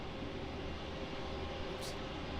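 A Virgin Australia Boeing 737-800 arrives at Melbourne Airport, a steady, distant broadband jet roar that holds level throughout with no voices.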